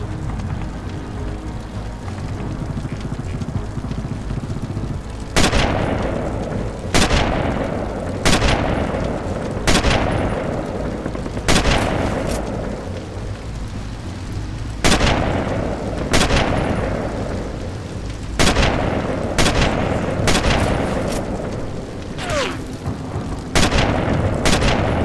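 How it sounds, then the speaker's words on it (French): Sniper Elite video game gunfire: loud, sharp rifle shots crack at irregular intervals, roughly a dozen over the span, each with a booming tail over a dense rumbling battle background. "J'ai l'impression que je me fais tirer dessus par un autre sniper."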